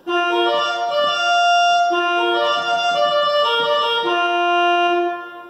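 A pipe organ's big party horn reed stop plays a bright, brassy chord sequence, loud and sustained, with several chord changes and a clean release at the end, alone without talk.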